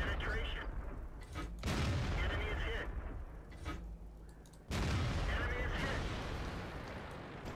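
Tank guns firing in World of Tanks, two deep booming shots several seconds apart, each with a long rumbling decay, set against steady engine noise, with someone talking throughout.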